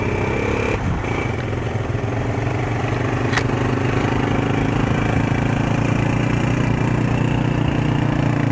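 A motorcycle engine idles steadily on a mountain road near Sheosar Lake in Deosai, a loud, continuous low chugging rumble close by with wind noise and no speech.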